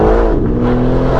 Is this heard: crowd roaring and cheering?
no